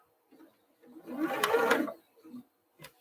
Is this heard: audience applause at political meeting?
no